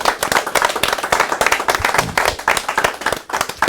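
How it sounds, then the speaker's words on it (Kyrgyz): An audience of village residents at a Kyrgyz televised quiz show claps loudly and steadily, a dense close wash of many hands lasting throughout with no talk over it. "Зардалы айылынын тургундарына бир кол чаап коелучу"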